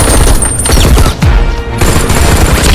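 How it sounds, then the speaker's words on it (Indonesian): Soldiers exchange gunfire in a film battle scene, with loud, dense automatic bursts and booming shots that run continuously and crowd out any other sound. "gerombolan tentara datang dan baku tembak pun terjadi."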